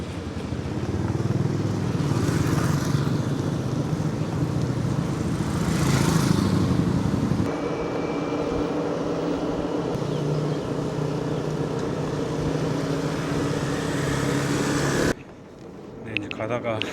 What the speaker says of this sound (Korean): 이제 전기 오토바이를 빌려서 가고 있습니다